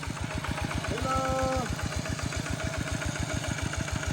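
A tractor engine idles in steady rapid pulses, close and even throughout, with a brief tonal whine rising above it partway through.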